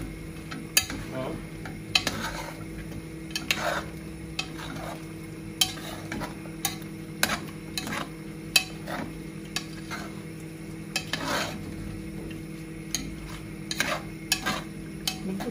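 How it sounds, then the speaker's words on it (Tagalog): Chili simmering in vinegar is stirred in a pan, repeated scraping and clinking strokes of a utensil over a soft continuous bubbling sizzle, close and moderately quiet. "Pwede na natin ihalo kasi kumulo na siya sa vinegar."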